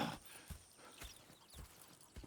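Horses clip-clop in the Western video game Red Dead Redemption, a few quiet, evenly spaced hoof thuds with a faint whinny near the start, heard alone.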